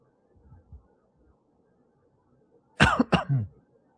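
A couple of faint low throat sounds, then two sharp, close coughs in quick succession followed by a short rasping throat clear.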